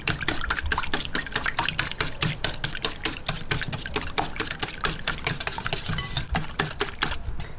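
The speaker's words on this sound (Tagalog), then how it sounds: "Atin lang pong batihin." Eggs beaten in a bowl for a skillet-cooked bibingka, a fast steady clatter of a whisk or fork striking the bowl in an even rhythm, close and continuous throughout.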